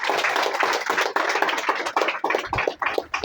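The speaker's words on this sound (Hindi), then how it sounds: "जोरदार एक बार ताली हो जाए यीशु के नाम से" A church congregation claps together in a brief, enthusiastic burst of applause, loud and close at first, then breaking into scattered, thinning claps that fade out.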